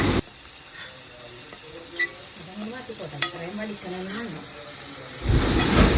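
Ginger, garlic and chilli paste frying with onions in a pan, a soft steady sizzle with scraping stir strokes and a few clinks, growing louder near the end.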